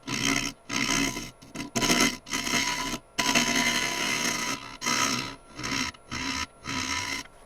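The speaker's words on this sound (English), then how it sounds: "I'm generally fairly reluctant to use a scraper on super hard wood, especially figured wood" A scraper cuts hard figured pecan wood on a lathe, giving rough, rasping scrape bursts in repeated passes broken by short pauses, loud and close.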